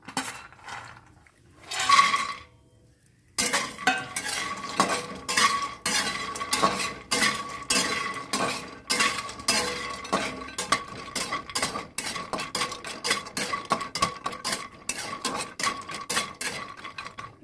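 Cashews frying in refined oil are stirred in a pan, a rapid run of sharp metallic scrapes and clinks from the spoon after a short opening rattle, close and dry, with no voices.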